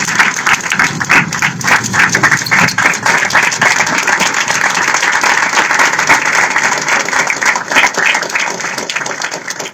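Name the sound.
audience applauding, standing ovation for Shaurya Chakra awardee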